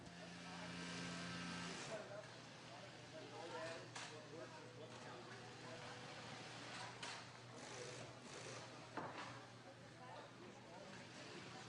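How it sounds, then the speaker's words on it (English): A special heavy-duty sewing machine stitches a pack frame to a scuba BCD body through the back pad, giving a quiet, steady mechanical whir with faint clicks, and a voice talks over it. "Workers secure the pack frame directly to the BCD body through the back pad using a special heavy-duty sewing machine."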